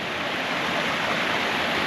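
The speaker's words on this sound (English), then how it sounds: "Water's ripping everywhere." Rainwater rushes down the Bunnell Notch Trail toward Mount Cabot in New Hampshire after heavy rain, a loud, steady, close roar of flowing water with no break.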